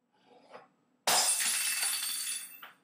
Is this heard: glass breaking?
yes